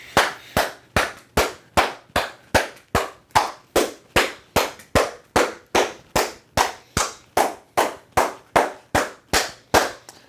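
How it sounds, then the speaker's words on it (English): Sharp, evenly spaced handclaps beat out a steady rhythm, about two to three per second, some two dozen in all, loud and close with no voices. "Clap it up, clap it up. Keep clapping it up"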